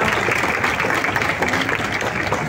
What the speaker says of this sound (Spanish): Por eso también un fuerte aplauso por esos sectores que nos están ayudando.